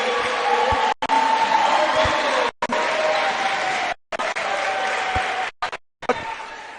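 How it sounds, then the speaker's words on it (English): A basketball arena crowd roars with cheering, shouting and clapping in a steady wash of noise, broken by several abrupt brief silences. "there will be plenty of shouting from this crowd tonight."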